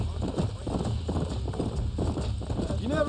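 Horses gallop with a steady, close clip-clop of hooves in the Red Dead Redemption video game, running under a voice talking throughout.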